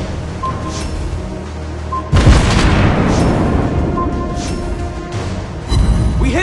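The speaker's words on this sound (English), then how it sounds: "Enemy ship destroyed!" An enemy warship blowing up in the naval combat game World of Warships Blitz, a loud deep boom that starts about a third of the way in and rolls on under dense battle noise, with another burst near the end.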